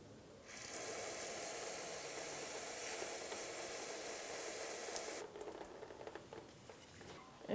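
Brake cleaner is sprayed in a steady, loud hiss onto the rear brake of a Jeep Compass for about five seconds, then stops, leaving faint clicks and handling noises.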